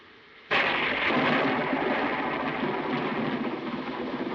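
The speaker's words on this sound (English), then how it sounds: "I love thunderstorms, don't you?" Thunder cracks during a thunderstorm in a 1948 film, a sudden loud clap that breaks out of quiet and then rumbles on for several seconds, slowly fading.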